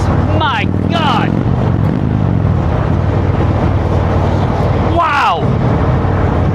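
Indian Chieftain motorcycle with a Fuel Moto tune pulling hard in sport mode, a loud, close engine roar rising through revs, with a rider's voice breaking in briefly over the engine.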